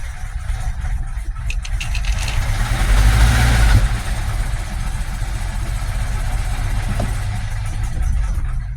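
A 2017 Kia Soul engine idles rough and uneven with a deep, lumpy knock, swelling briefly louder midway as if revved, then settling back to a steady, unhappy running note; close and loud, no talking.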